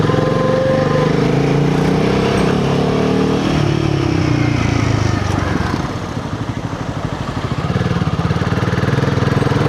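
A 2025 Royal Enfield Himalayan 450 fitted with a dual O2 sensor fuel module pulls hard in third gear at low speed, its engine drone steady and loud throughout with heavy road and wind noise, briefly easing before building again.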